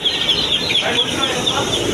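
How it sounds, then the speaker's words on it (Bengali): A group of young chicken chicks chirp nonstop at close range, high rapid peeps overlapping, while a person talks over them. "আরও আছে এই যে হামি মুরগির বাচ্চা"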